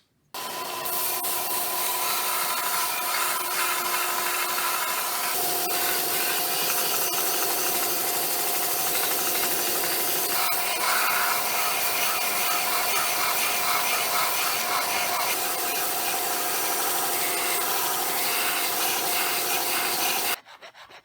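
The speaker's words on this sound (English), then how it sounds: "I'm going to use the belt sander right here, and I'm going to use it to round down these edges and make it more smooth and even" A belt sander grinds down the edges of a steampunk knuckle duster finger ring with a continuous, loud abrasive whir that runs steadily for about twenty seconds and then cuts off.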